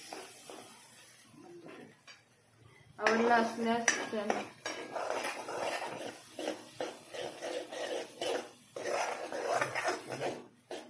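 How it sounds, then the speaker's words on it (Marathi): Masala for cabbage vada is roasted in a pan, heard as a quiet start and then repeated close scrapes and clinks of a metal spoon against the pan in an uneven stirring rhythm. "अशा प्रकारे आपण हा मसाला भाजून घेणार आहोत"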